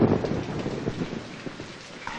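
Rain falling at night in a film scene, a steady dense hiss of rainfall, moderately loud, with no talk over it.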